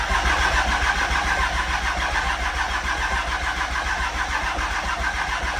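A 3rd generation Cummins diesel truck engine cranks and catches, running loudly and steadily nearby with a dense, rough diesel clatter throughout and no talking.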